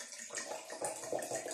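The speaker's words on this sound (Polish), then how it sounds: "Naleję odrobinę." A little water is poured into a glass wine glass, a short, continuous gurgling trickle that runs close and steady for under two seconds, with no voice over it.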